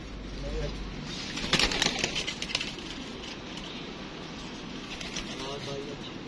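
Pigeons in a loft being shown for sale give soft, low cooing, brief and partly buried under nearby voices and ambient rustling.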